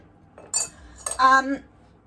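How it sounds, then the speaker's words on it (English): A metal spoon scoops through soft feijoa fruit, giving two short bursts of clinking and scraping close by, with a faint voice-like hum in the second burst. "So when you're doing the scoop with a spoon like this"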